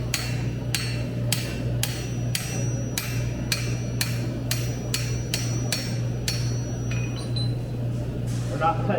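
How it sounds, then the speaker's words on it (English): Hammer blows striking a chisel on hot metal at an anvil during a blacksmithing demonstration, a steady series of about a dozen loud, evenly spaced ringing strikes over a constant low hum, ending with fainter metallic clinks. "we're just using shearing blows to shear that off"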